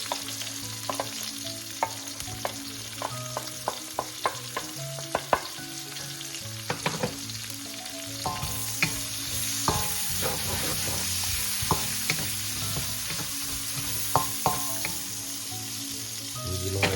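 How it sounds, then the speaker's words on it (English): Garlic and onions sauté in a hot pan, a steady sizzle broken by scraping and stirring clicks from a utensil throughout. "start sauteing our aromatics here, starting with the garlic and the onions."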